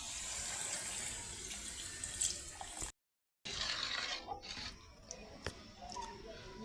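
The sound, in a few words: water poured into biryani pot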